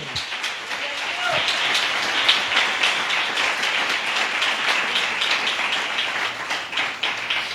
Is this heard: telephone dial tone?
no